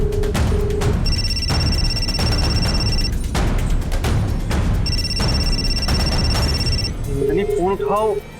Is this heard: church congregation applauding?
no